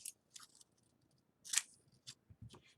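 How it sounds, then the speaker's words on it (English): Scissors snip along a line through folded paper while making pop-up figures, a handful of short, crisp cuts spread over a few seconds, close up and quiet, with no voices. "I'm going to fold it in half because otherwise it's a little too long, and just cut on the line."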